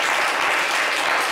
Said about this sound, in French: Vous recevez même les applaudissements du public, monsieur Kwaku.